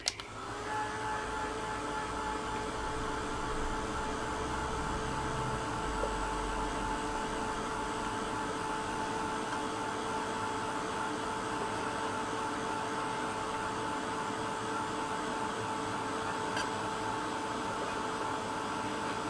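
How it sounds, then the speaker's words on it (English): A heat gun blows steadily on drying texture paste, a loud continuous whirring roar with a fixed whine that holds unchanged for the whole stretch, close and alone. "So I had the heat gun on it for a couple of minutes and it was done."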